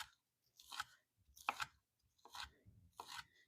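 A knife slicing cooked, butterflied Italian-crusted chicken into strips on a board: four quiet, evenly spaced cuts, each a short crisp crunch, close and faint against near silence.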